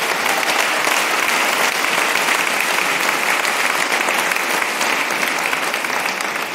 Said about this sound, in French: Vous pouvez applaudir aussi Bruno quand même